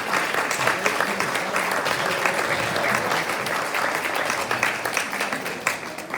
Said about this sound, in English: You'll give them a nice round of applause.